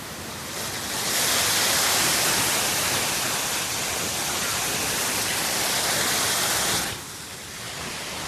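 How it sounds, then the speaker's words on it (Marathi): A large waterfall and a fast river rush beside a temple in the hills near Malvan, a loud, steady roar of broadband water noise that swells and then eases slightly toward the end. "मंदिराच्या बाजूला एकदम नदी वाहते, जोरदार पाणी आहे. पाण्याचा फोर्स बघा किती जोरदार आहे"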